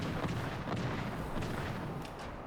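Destroyer guns fire in a naval battle video game, a dense run of booming shots stacked close together over a constant low rumble with no talk.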